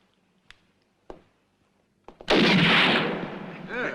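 A single loud gunshot at a sharpshooting contest in a Western setting, ringing out after a few faint clicks and followed by a long reverberating roar and decaying echo.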